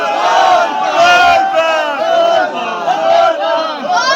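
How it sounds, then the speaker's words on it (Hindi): A dense crowd of pilgrims at the Baba Dham temple during the Sawan Monday gathering, heard as a loud, continuous mass of many voices with rising and falling collective shouts or chants, close and enveloping throughout. "भीड़ बहुत ज़्यादा है, बहुत ज़्यादा है ना"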